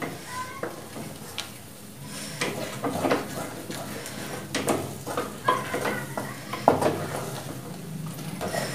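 Moong dal halwa being stirred in an aluminium kadai, a steady sizzle with repeated scraping strokes of the spoon against the metal, close and moderately loud, no talking.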